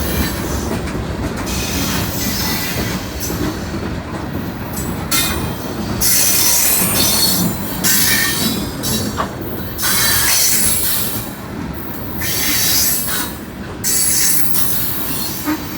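A train rolls past on a hilltop rail line, its wheels squealing loudly and steadily over continuous rumbling and clatter of passing cars, close and sustained throughout.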